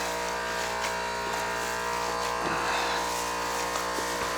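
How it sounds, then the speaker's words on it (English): A steady mechanical buzzing hum from a vacuum sealer runs throughout, loud and close, with faint background clatter and brief muffled sounds, in a kitchen packing homemade sausage. "you can hear the vacuum sealer and everything going in the background"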